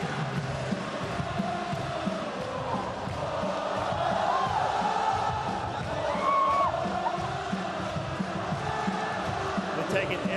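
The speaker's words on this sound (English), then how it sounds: "They're taking every little bit of energy from this crowd." Baseball stadium crowd at a 2023 World Baseball Classic game between Italy and Chinese Taipei, a steady roar of cheering that swells midway, running beneath a commentator's voice.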